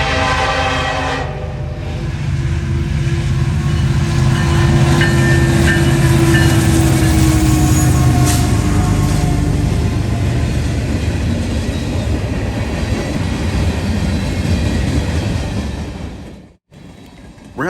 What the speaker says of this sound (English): westbound manifest train 15N, daily Conway, Pennsylvania to Elkhart, Indiana rolls in